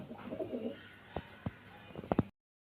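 Pigeons offered for sale coo in low, rolling murmurs close by, with a few sharp louder bursts clustered near the end.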